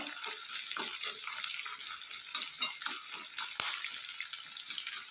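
Green chillies stirred into hot oil in a pan, a steady bright sizzle with scattered scraping stirs and one sharp clack, close and continuous with no talk.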